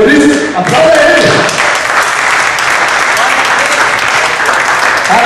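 A church congregation applauds loudly and steadily for several seconds, a dense wash of clapping with some voices mixed in.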